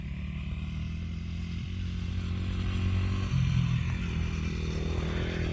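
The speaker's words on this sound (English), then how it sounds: "He rides the shit out of that bike." A 1995 Honda XR80 dirt bike fitted with street tires is ridden nearby, its small engine buzzing steadily and loudly with a slight rise in pitch partway through.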